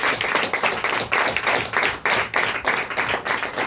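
A church congregation claps hands together in a steady, rhythmic beat, loud and close, roughly two claps per second with no talk over it.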